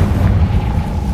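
A Confringo spell blast from Hogwarts Legacy gives a loud, deep, rumbling boom that fills the whole short moment with heavy low-end roar and no talking.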